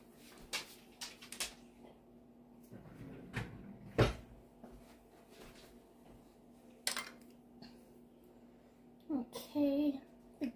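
A door in a home is pushed shut with a sharp wooden thud partway through, among scattered knocks and clatters, with quiet voices talking at times.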